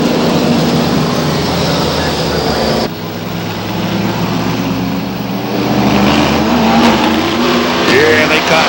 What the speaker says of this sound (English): Nose to tail down the front straightaway as they combine the start-finish line.